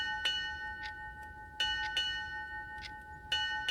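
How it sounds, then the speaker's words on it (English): Naval ship bells ring out the time as a tabletop game sound effect, three separate clusters of bright metallic strikes, each a quick double chime, spaced evenly over a faint steady hum. "the bells of your naval ship"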